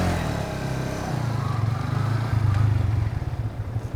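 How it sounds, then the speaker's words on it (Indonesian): Manual-clutch motorcycle in first gear held at high revs around 6000 RPM, then the clutch is let out, a steady loud engine drone with a throbbing low pulse that dips and firms up as the drive engages. "Ini masuk gigi 1, ini kopling ditahan, putaran gas saya tinggi. Ini 6000 RPM, suara mesin menggerung."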